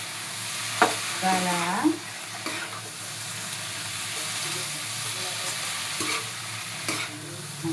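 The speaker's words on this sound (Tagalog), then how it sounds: "halo na natin yung niluto natin kaninang meat. Halo na po natin sa veggies, sa mga gulay." Cooked meat being stirred into mixed vegetables in a hot pan for pancit, with a steady sizzle and hiss of frying and occasional scrapes of the stirring utensil. A voice briefly speaks over it.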